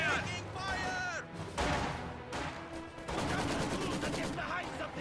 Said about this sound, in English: Machine gun fire! Fire!